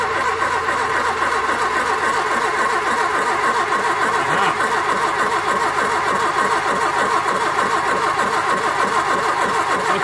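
A Toyota KE70 Corolla engine, abandoned for years, cranked over by the starter in a long, continuous, rhythmic churning run, loud and close.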